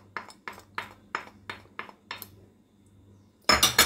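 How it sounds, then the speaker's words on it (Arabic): A spoon works through a bowl of rice salad with corn, gherkins and black olives, giving about eight evenly spaced clinks against the bowl, then a louder, busier burst of scraping at the end. No one speaks. "غادي نخلط هاد المكونات مزيان"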